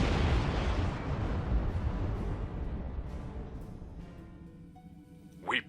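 Heavy rumbling explosions from quantum torpedoes in the Star Trek Online space game, loud at first and slowly fading into a lingering roar, with a sharp brief burst near the end.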